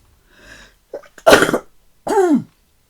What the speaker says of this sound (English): I've got the sneezes.